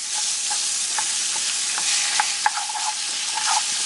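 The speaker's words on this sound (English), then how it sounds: "Now that our garlic is all nice and browned, we're going to add our half a pound of pork." Half a pound of ground pork frying in a pan with browned garlic for spring rolls: a steady, close sizzle broken by light scraping and clicking as the meat is stirred and separated, with no talking.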